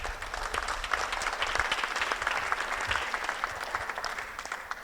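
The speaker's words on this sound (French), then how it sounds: "on peut les applaudir aussi" Applause for partners at a prize ceremony for the Tremplin vers le SIIVIM awards, a steady patter of many hands clapping, moderately loud and continuous with no speech over it.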